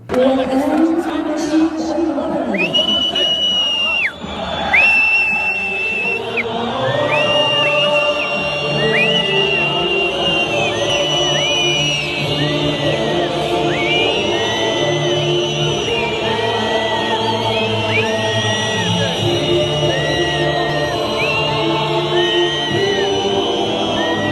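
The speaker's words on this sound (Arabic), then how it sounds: "غادي نشوفوا فيديوهات ديال عدد من الجماهير المغربيه وهي كتصفر، انديه ماشي غير الرجاء بوحدها، كتصفر على النشيد الوطني" Moroccan football fans in a stadium whistling during the national anthem, with many long, wavering whistles rising and falling over a dense, continuous crowd roar, while a voice speaks over it throughout.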